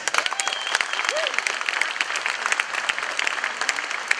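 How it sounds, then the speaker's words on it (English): A roll call gathering at NAS Fort Worth gives the skipper a round of applause, steady clapping from a modest crowd with distinct sharp claps, continuing throughout. "Another round of applause for the skipper"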